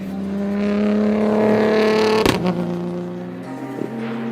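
A tuned car runs fast at a distance, its engine droning in a steady rising pitch before a sharp shift and then a lower, steadier note.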